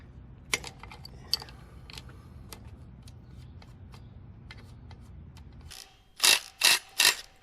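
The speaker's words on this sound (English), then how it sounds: "It's a good idea to turn the chain tensioner bolts in a bit." A ratchet turns the chain tensioner bolts on a 2021 Kawasaki KX250 dirt bike, giving a few faint clicks over a low hum, then three loud rasping ratchet strokes close up at the end.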